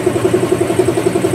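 A CF Moto 450cc adventure motorcycle idles close to its exhaust, a steady low throbbing pulse with regular, even beats across the short stretch.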